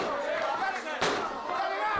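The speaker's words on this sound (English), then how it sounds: "Listen to the noise from this crowd" Wrestling crowd at a heavyweight title bout, a steady roar of shouts and cheering with a sharp slam-like thud cutting through midway.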